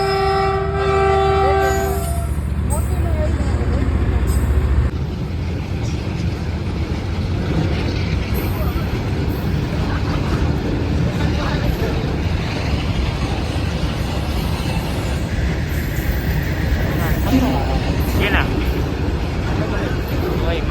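A train goes through the Bhatia railway level crossing with a long, loud horn blast at the start, then a continuous heavy rumble of wheels on rails over hot-weather crowd noise, with people talking nearby.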